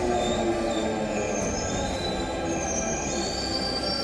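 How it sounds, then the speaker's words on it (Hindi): India's first driverless metro train in Delhi running on its rails, with a continuous loud rumble and high, sustained wheel squeal heard from on board, steady throughout and without talk. "आप इस वक्त जिस मेट्रो ट्रेन के सफर को देख रहे हैं, उसे कोई ड्राइवर नहीं चला रहा, ये मेट्रो खुद ही चल रही है।"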